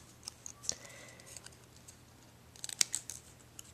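Scissors cut up paper for a craft layout in a quiet room, with a few faint, scattered snips and then a short, louder burst of crisp cuts near the end.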